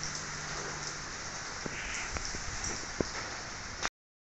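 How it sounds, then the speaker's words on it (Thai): Steady rain falling during a gusty afternoon storm in rural Thailand, a constant hiss of drops on surfaces with a few sharp close taps, ending abruptly. "จากที่ฝนตกมา"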